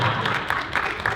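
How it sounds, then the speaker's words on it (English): Convention audience applauding at a late-night comedy panel, a dense wash of clapping from a large crowd filling the room, steady and fairly loud, with a few brighter bursts running throughout. "That gets applause."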